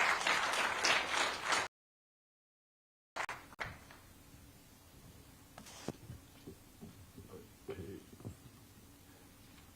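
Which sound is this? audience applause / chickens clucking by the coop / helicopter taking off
audience applause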